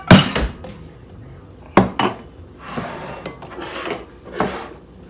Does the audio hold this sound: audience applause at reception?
no